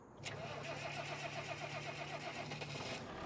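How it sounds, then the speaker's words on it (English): A tractor engine starting up in the Farming Simulator video game, turning over and settling into a steady low idle with some background noise. "Now we have our tractor."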